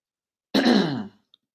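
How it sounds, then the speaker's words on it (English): A single throat clearing, close and fairly loud, a rough half-second burst with no other sound around it. "I want to clear my throat while I'm doing this"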